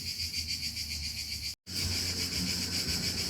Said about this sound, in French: Tenez un peu les cigales, il fait chaud, il fait 40 degrés